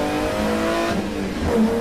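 A Jaguar XJ12 touring race car with a 5.3 litre V12 powers out of a left-hand corner at Snetterton, its engine note loud and steady as it accelerates hard, with no voices over it.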